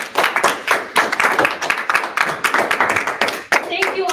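A live audience at a dramatic reading event claps for the readers, loud close hand claps in a dense, uneven patter that runs throughout, with a voice briefly heard at the end.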